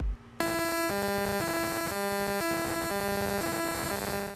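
A laser-induced plasma sound weapon emits a shrill, whining electronic tone that steps back and forth between two pitches in a steady rhythm, loud and continuous with no voices.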